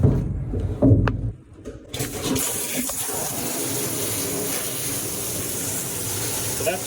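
After a few brief knocks, a steady rushing stream of water sprays continuously at moderate loudness from a submersible pump in a DIY vapor blaster, with no talking.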